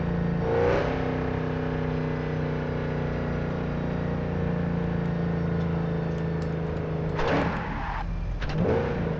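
A vehicle engine in the video game Cyberpunk drones and revs steadily throughout, loud and close, with a brief surge near the start and some rattling bursts toward the end.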